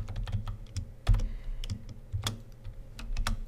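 Code being typed on a computer keyboard: close, irregular clacking keystrokes in quick bursts, with an occasional heavier key thump and no talking.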